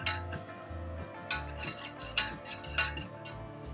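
A metal whisk clangs against a metal pan while stirring flour for mac and cheese sauce, giving a run of sharp, close, irregular clinks and scrapes.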